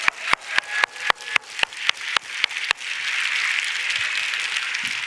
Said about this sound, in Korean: 다시 한번 감사의 박수를 올려드리기 바랍니다